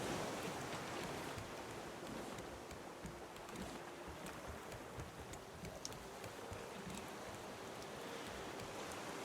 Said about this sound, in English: It looks a little stormy out here as well. I mean, look at those waves.